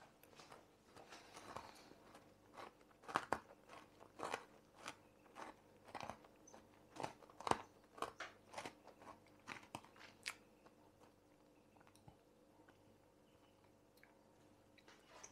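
Chocolate-coated sweet chili potato chip wedges are bitten and chewed close up, giving a series of sharp, crisp crunches in an irregular rhythm that thin out toward the end, over a faint background hum.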